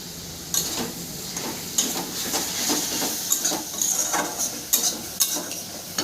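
Leafy greens sizzle in a hot pan with a little sugar while being stirred, a steady close frying hiss broken by repeated scraping and clinking strokes of the spoon against the pan.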